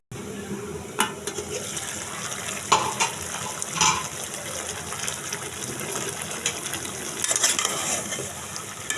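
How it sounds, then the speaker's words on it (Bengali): Water is poured into a cooking rohu fish head curry with ash gourd, a steady gushing and sizzling wash with a few sharp clinks of a utensil against the pot. "জল দিয়ে দেবো।"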